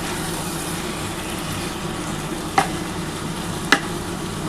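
Masala being stir-fried with duck eggs in a pan for an egg and potato curry, a steady close sizzle with low rumbling and two sharp scrapes or knocks partway through.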